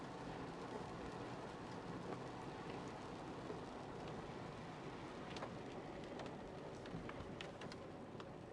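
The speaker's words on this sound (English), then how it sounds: "It seems to always be raining." Steady, dense rain hisses throughout a video game scene, a continuous even wash of falling drops with faint scattered patters and a low rumble underneath, no voices.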